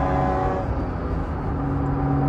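A 1995 Honda NSX-R engine cruising at 100 km/h in fifth gear near 3,000 rpm, a steady loud cabin drone with a constant pitch and tyre roar, no talk.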